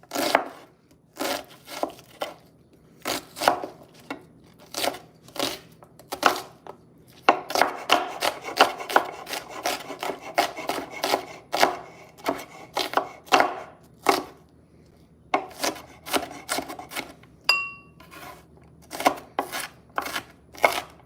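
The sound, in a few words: knife dicing and slicing food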